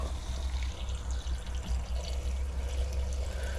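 Water runs steadily from an RV sink faucet while the plumbing is flushed during de-winterizing of a Coachmen Nova camper, a continuous close splashing stream into the basin, alone without talk.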